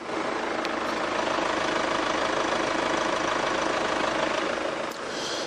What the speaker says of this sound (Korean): 아직 굉장히 정숙한 엔진 소음 기대하실 수가 있는 차량입니다.